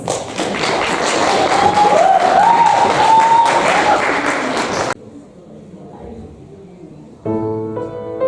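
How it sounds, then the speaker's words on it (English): An audience at a Wellington Durga festival applauds to welcome a children's group, loud clapping filling the first five seconds before it stops abruptly and music begins. "kids with round of applause."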